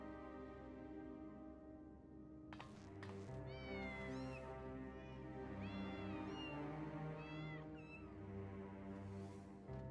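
A cat meowing in Final Fantasy XIV: Dawntrail gives a run of clear, repeated meows over steady background music.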